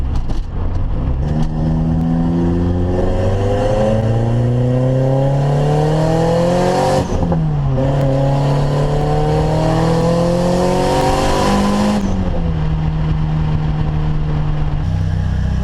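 Nissan 240SX with a turbocharged KA24DE engine accelerating hard under boost, loud and close from inside, rising through the revs with a couple of gear shifts and sustained engine drone.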